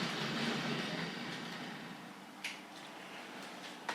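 A Tri-ang and Hornby Dublo model train rolls on a layout and eases to a stop near the sidings. Its soft whirring rumble fades gradually, with a few small clicks toward the end.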